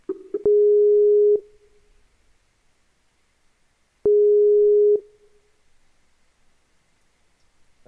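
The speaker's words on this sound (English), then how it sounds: "Brian, phone call incoming, bud." Incoming Skype call ringing: two long steady electronic tones, each about a second, separated by a pause of roughly three seconds, with quiet room noise between them.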